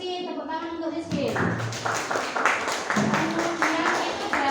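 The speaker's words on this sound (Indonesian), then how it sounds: "tepuk tangan untuk Rizky" A classroom claps for a student named Rizky, a loose run of hand claps that starts just after a teacher speaks and continues at moderate loudness over the group.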